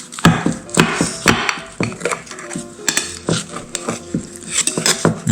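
A fork cutting into a baked red bean sticky rice cake (niangao) on a plate, with repeated sharp metallic clicks and scrapes in an irregular rhythm, close and fairly loud.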